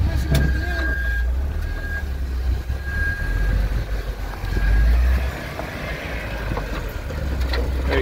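An off-road vehicle climbs Winch Hill at Fordyce with its engine rumbling low and heavy, surging and easing in bursts as it crawls over the rocks, heard close by.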